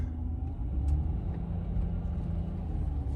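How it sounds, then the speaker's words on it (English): A loud van engine rumbles at idle in the morning, a deep continuous low drone with faint clatter on top, steady and nearby with no talking. "Van is loud this morning."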